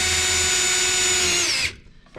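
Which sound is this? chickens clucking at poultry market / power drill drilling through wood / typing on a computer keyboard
power drill drilling through wood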